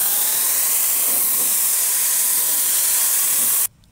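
A paint sprayer hisses steadily while coating a five-drawer dresser, a loud, continuous airy spray held for several seconds before it cuts off abruptly into near silence.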